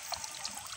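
Water being scooped out by hand to catch fish, a faint, continuous trickling and pouring with small splashes throughout, without voices.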